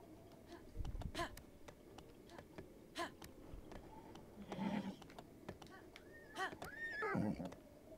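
A horse whinnies in the Zelda: Breath of the Wild video game, with a rising and falling neigh near the end, set among scattered hoof clops and light clicks.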